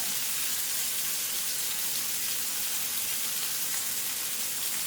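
Steaks seasoned with kosher salt and black pepper sear in an oiled pan, giving a steady, even sizzle that holds at moderate loudness without a break and with no one talking.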